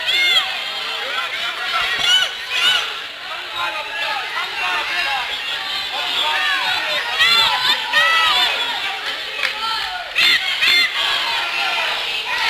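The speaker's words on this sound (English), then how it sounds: "You can hear the crowd." Crowd at a high school wrestling match yells and shouts continuously, a loud indoor din of many voices with rising cheers and cries throughout.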